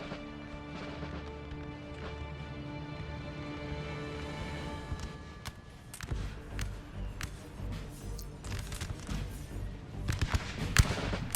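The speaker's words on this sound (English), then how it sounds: "My artillery is finally firing" Artillery firing in the video game Napoleon: Total War, a run of sharp booms and crackling impacts that build from steady battle din into dense, irregular bursts, with louder hits toward the end.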